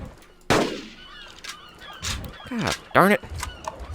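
Rifle shots fired while hunting a Carnotaurus in Carnivores Genesis, two sharp loud cracks about half a second and three seconds in, with a voice swearing and talking between them.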